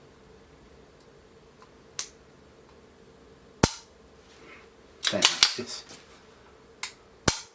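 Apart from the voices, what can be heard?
trigger clicks of a Staccato 2011 pistol with red dirt trigger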